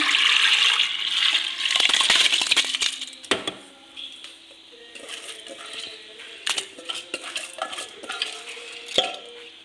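Soaked rice and its water pour into a pressure cooker while porridge is being made, giving a loud watery rush and scrape at first, then scattered clinks and splashes that fade to quieter taps.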